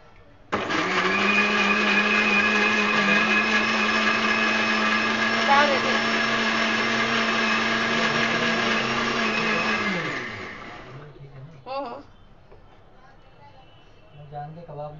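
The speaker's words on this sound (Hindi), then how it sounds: "चलिए तो अब टमाटर को मैं पीस लेती हूँ मिक्सी में।" A kitchen mixer grinder grinds tomatoes with a loud, steady electric whir that runs for about ten seconds, then winds down and stops, leaving quiet room sound and a few faint knocks.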